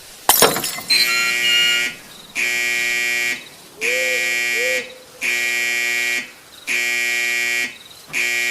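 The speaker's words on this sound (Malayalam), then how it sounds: "അടിക്ക്, ആ ബെല്ല് അടിച്ച് തകർക്ക്." An electric bell rings hard in long, loud, evenly spaced bursts of about a second each, opening with a sharp crash, in a radio drama set at an isolated estate at night.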